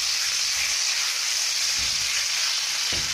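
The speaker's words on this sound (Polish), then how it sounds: "biorę naszego steka i rzucam na patelnię" A steak sears in a preheated frying pan, giving a steady, loud, close sizzle and hiss throughout, with a couple of faint low bumps and no talking.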